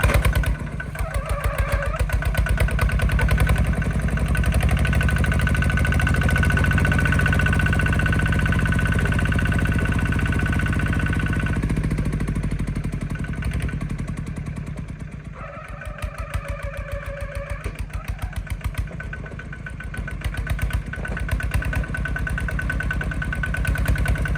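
A farm machine's engine running as it pushes soil, a steady mid-pitched motor drone that rises and falls with load, dipping briefly and then recovering, close and continuous with no voices.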